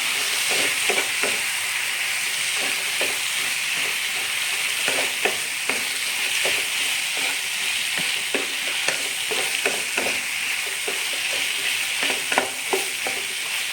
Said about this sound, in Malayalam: ഉരുളക്കിഴങ്ങ് ഇട്ട് കൊടുക്കുന്നുണ്ട്